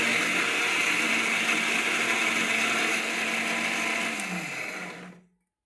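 Kitchen mixer grinder running steadily as it finely grinds food, a loud continuous whir that slows and winds down near the end before cutting off to silence.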